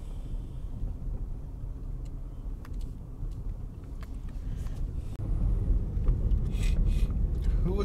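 A car interior during a deer-season drive carries a steady low engine and road rumble with wind noise, growing louder and heavier partway through, with scattered faint clicks and no clear talking.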